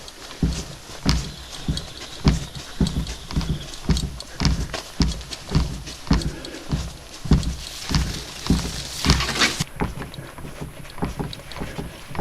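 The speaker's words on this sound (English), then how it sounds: "And that is the sound of hundreds of bullfrogs, all trying to get laid." Hundreds of bullfrogs call together from lake water at Lac La Muir, deep throbbing croaks pulsing in a steady overlapping rhythm, with some wind in the background.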